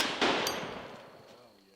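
A single heavy report from a GM6 Lynx .50 BMG anti-materiel rifle, with a sharp blast that rolls off into a long, fading echo outdoors.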